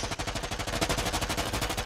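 Rapid automatic gunfire from Predator: Hunting Grounds rattles in a dense, continuous burst of evenly spaced shots, loud and close, with no talking.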